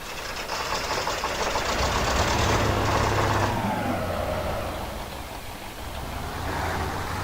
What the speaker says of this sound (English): start the engine and get going.